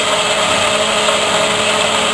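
Power tool cutting pieces from half-inch stock for a miniature woodstove, a loud, steady whining drone that runs unbroken throughout with no pauses.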